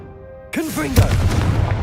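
In the Hogwarts Legacy video game, a Confringo fire blast spell is cast: a quick whooshing, swooping charge-up gives way to a deep, booming explosive burst that rumbles on afterward, loud and close.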